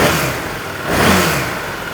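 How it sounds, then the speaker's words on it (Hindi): A superbike engine with a stock exhaust revs loud and close, a sustained roar that rises and dips slightly across two seconds, with no voices. "तो स्टॉक बाइक की आवाज़ कैसे साउंड करेगी तो वो भी आपको एक बार सुना देते हैं।"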